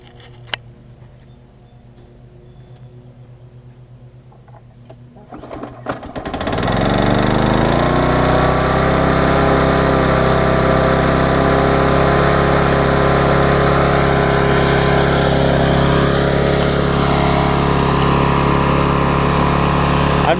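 A Vulcan 18-inch lawn mower with a 3.8 hp Tecumseh engine sputters through a quiet start, then settles into a loud, steady running drone nearby.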